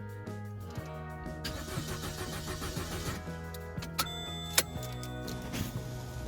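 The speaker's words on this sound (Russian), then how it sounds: "Попробую завестись" An Opel Corsa D engine cranks repeatedly without catching, a steady mid-pitched churning with a few sharp clicks, close and continuous with no voices.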